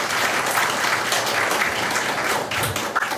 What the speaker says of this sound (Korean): 작가님 박수로 맞이해 주시기 바랍니다